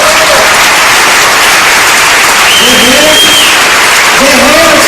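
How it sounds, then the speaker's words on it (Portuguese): Standing church congregation applauding its volunteers, loud continuous clapping filling the room with voices calling out over it. "A igreja vai aplaudir esses irmãos e essas irmãs aí."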